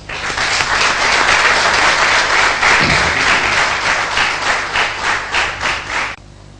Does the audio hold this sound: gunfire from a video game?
no